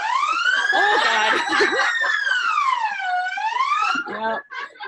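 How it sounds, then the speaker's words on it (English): A flight crash alarm being tested on a ship's bridge gives a loud electronic warbling tone that sweeps up and down continuously, with people talking and laughing underneath. "Following is a test of the flight crash alarm on the bridge."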